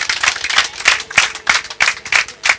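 An audience at a gathering in Gisenyi, Rwanda, claps in unison to honour the beer, a loud, close, rhythmic beat of about three claps per second.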